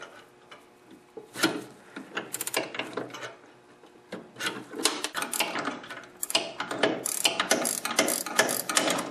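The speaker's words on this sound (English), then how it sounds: "I'm going to use a 9/16 gear wrench" A 9/16 gear wrench ratchets a nut loose on an older Craftsman snowblower, giving bursts of rapid, close metallic clicking with short pauses between strokes.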